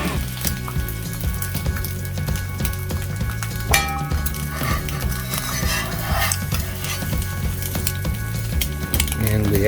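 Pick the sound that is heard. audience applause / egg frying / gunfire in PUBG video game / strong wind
egg frying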